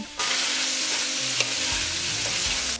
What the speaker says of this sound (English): add the sausage pieces and let it fry for a couple minutes and develop a nice crispy skin